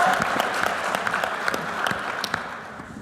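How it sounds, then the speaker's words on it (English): Applause from a Boston biotech demo-day audience, a steady wash of many hands clapping at moderate level for about three seconds, without voices on top. "please give them a round of applause"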